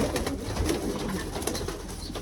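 Pigeons coo in soft, repeated low calls with a steady murmur of cooing continuing throughout, fairly close, from a flock kept at home.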